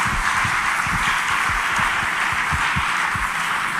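A church congregation applauds a sermon, with steady dense clapping and a low rhythmic thumping running underneath, loud and continuous throughout.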